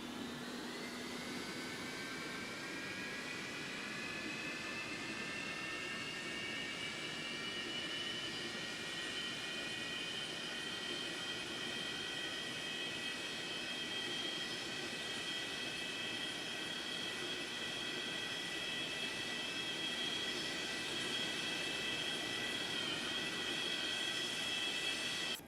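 A simulated airliner jet engine spooling up in the X-Plane 12 flight simulator, a steady whooshing roar with rising high whine tones that hold and stretch across the whole stretch, alone without talk.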